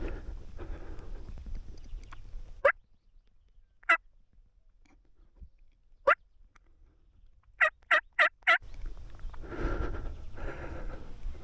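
A strutting wild Rio Grande turkey gobbles on a Colorado hunt: sharp isolated gobbles, then a rapid run of four in a row, loud and fairly close, set off by quiet gaps between stretches of rustling outdoor noise.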